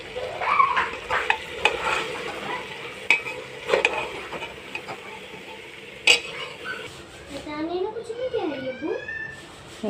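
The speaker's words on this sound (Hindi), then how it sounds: "इन चावलों को हम इस मसाले में अच्छे से भून लेंगे" Rice with tomatoes, green chillies and salt being fried in masala in a pot, giving a soft continuous sizzle with scraping, clinking stirs of a spoon against the pan, while a voice talks over it.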